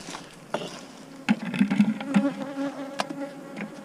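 Honey bees buzz around an active hive colony in a close, wavering drone, with scattered sharp taps and knocks over the hum.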